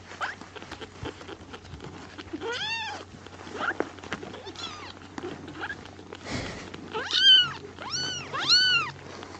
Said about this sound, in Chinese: 看嘤嘤怪，都在嘤嘤叫，想吃奶。